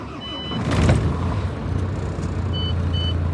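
A MAN TGA diesel truck engine turns over and catches, a brief louder burst settling into a steady low idle rumble, with a faint intermittent high beep in the background.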